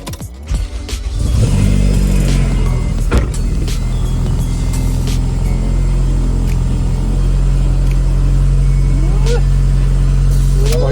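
A K24-powered Acura RSX with a newly replaced clutch and a turbo pulls away and drives on, its engine a steady loud rumble close by, while people talk now and then.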